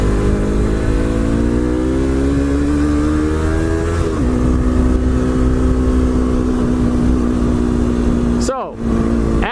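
Yamaha R3 motorcycle engine droning loud and steady while riding through tight curves, its pitch holding then shifting as the rider eases off and rolls back on, with heavy wind rush throughout.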